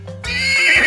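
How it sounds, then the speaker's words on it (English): A horse on a farm lets out a single loud, close neigh that rises into a long, shrill whinny. "H, horse, horse."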